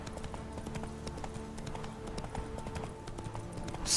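Horse hooves clip-clop in a steady walking rhythm over a busy background of ambient game sounds, from The Witcher 3: Blood and Wine.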